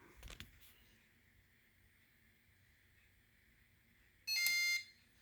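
A Simplex fire alarm appliance activated during a system test gives a short, loud electronic burst near the end, after a faint hum and a brief thump at the start.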